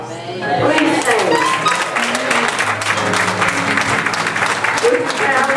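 A church congregation applauds a visiting elder and his wife, producing steady, close, full-bodied clapping that fills the whole stretch without letting up.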